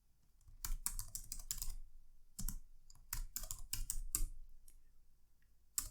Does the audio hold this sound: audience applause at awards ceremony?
no